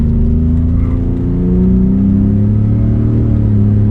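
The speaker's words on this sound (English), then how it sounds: "Getting on the freeway here, let's punch it and see what this truck does." Ford F150 Raptor accelerating hard onto a freeway, heard from inside the cab: a loud, steady engine drone with a rising pitch as the truck pulls, continuous and without talk.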